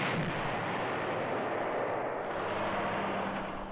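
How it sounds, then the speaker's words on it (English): Artillery shelling in the Allied General strategy video game, a dense, sustained rumbling barrage of booming fire that fills the whole stretch without pause. "use this artillery, the southwesternmost artillery, and shell Terajoki again"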